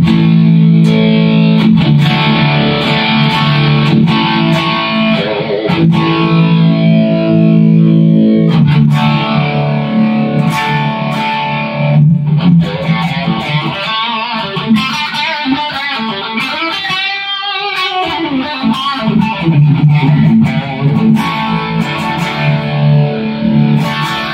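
Distorted overdrive electric guitar through a Boss GT-100 multi-effects unit, playing sustained chords and riffs continuously at a loud, steady level with no talking.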